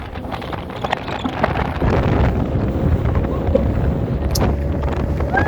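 A speedboat ride at Patenga sea beach, with heavy wind buffeting the microphone over a continuous low rumble of the boat moving across the water.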